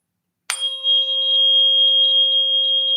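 A sharp strike is followed by a pure, steady ringing tone that sustains evenly, clear and close, with no other sounds.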